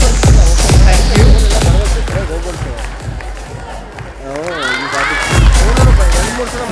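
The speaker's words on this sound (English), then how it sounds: "Can we hear a big round of applause for him?" Crowd applause and cheering at the Classmate All Rounder 2023 grand finale, loud and continuous, with shouts and voices mixed through the clapping.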